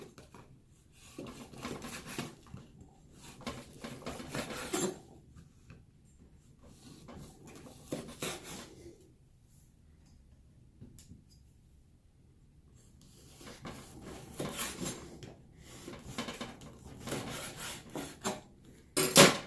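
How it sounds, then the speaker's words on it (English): A knife saws at an angle through dried biltong beef on a cutting board, giving repeated rasping, scraping strokes in several bursts separated by brief pauses, close and fairly quiet. "I always cut at an angle on a cutting board, obviously."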